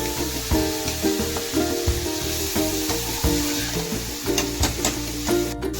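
Vegetables sauté in a hot pan with a steady, close sizzle throughout, punctuated by scraping stirs and clinks of a utensil against the pan, with tonal background sound underneath.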